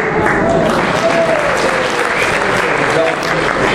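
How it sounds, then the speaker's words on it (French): Loud, continuous applause from a large audience at a political rally fills the whole stretch, dense and even without letting up. "N'applaudissez pas trop fort, ça va coûter 1 milliard par an"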